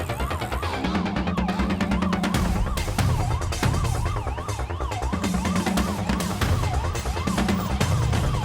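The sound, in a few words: police car siren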